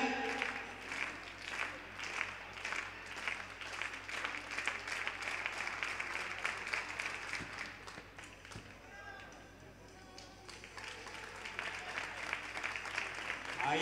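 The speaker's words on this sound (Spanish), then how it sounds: "Ahí nos pide palmas Sancho." Spectators at an indoor Galician athletics championship clap in a fast, steady rhythm for a jumper's final attempt. The claps thin briefly near the end before resuming, with a commentator talking throughout.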